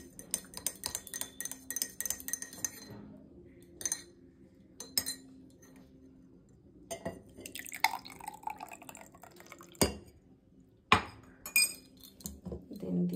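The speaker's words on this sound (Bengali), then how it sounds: "তো আগে একটু নাড়িয়ে নিই।" Spoon stirring soaked chia seeds in a glass, giving a run of light clinks and wet taps, sparse at first and then more frequent, fairly close, with no talk over it.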